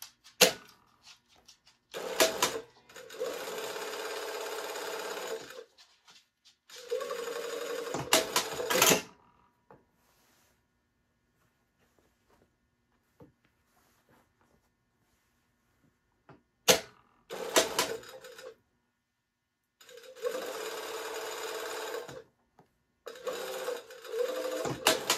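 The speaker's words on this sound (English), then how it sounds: "we're going to sew this first pass at 3/8 inch or 1 centimeter" A sewing machine stitches the yoke seam of a shirt dress at a 3/8 inch seam allowance, running in several steady bursts separated by quiet pauses.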